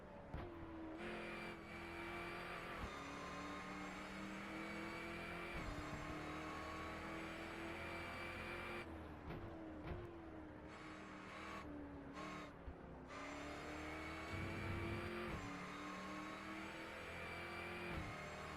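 A Mosler MT900R GT race car in the video game Race Pro, its engine droning continuously and close, with repeated gear-shift drops and rising revs, and brief cuts where the engine note falls away before climbing again.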